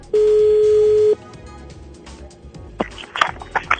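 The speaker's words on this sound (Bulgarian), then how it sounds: "Остава и да я потърсим по телефона." A telephone call being dialed: a steady dial tone holds for about a second, then quiet line noise follows with a run of short dialing beeps near the end.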